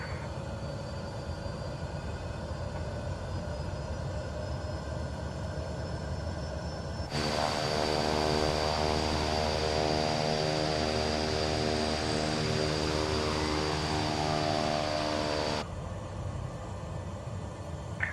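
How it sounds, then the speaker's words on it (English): The twin engines of a Cessna 408 in flight in Microsoft Flight Simulator give a steady drone that swells into a louder, richer tonal roar for several seconds in the middle, then drops back. "So that was the first flight in the Cessna 408."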